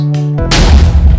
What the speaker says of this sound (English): It's an explode button. Just make it explode.